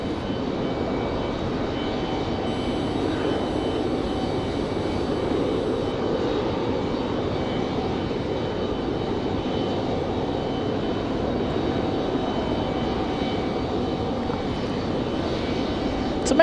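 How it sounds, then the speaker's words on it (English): A Republic Airways jet circling in a loop near Raleigh-Durham airport, its engine roar a steady broadband rumble held at constant loudness throughout, distant rather than close. "So Republic Airways out there doing a quick loop"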